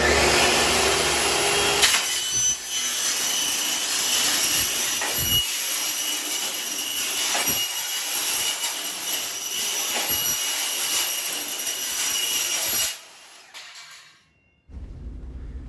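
A 48-tooth Metal Devil saw blade cutting thin steel makes a loud, sustained high-pitched metallic scream with a few uneven bumps, then the motor winds down to quiet.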